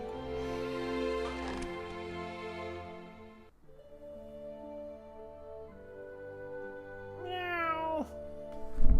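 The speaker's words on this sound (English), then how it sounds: "Meow." A cat meows repeatedly in The Witcher video game, with drawn-out tonal cries over low game sounds and a higher rising wail near the end, fairly close and without talk.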